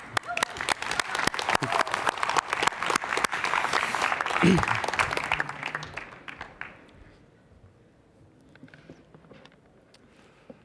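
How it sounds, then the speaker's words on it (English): Warm applause from a lecture audience welcoming an architect, steady dense clapping for about six seconds that then fades and thins to a few scattered claps, with faint talk near the end. "Please welcome architect Bryan Allen with a warm applause."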